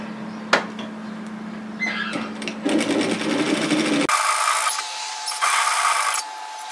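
Sewing machine stitching the strap of a reusable four-cup takeaway coffee holder bag, running in close bursts with a brief pause and a change of pitch partway through.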